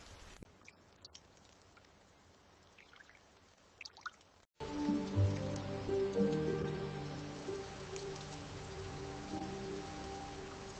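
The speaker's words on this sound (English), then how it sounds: "The rain is so heavy." After a quiet start with a few drips, steady rain begins pattering loudly on a surface, continuing without a break.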